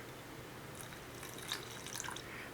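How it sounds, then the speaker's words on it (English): Water trickles and drips softly into a bowl of whole grain cracker dough in a few quiet splashes, close by but faint. "So I'm going to add some more water."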